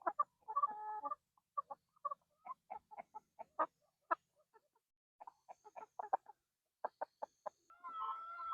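Chickens cluck in short, scattered bursts, fairly quiet and close, with a few louder squawks among them and no talking.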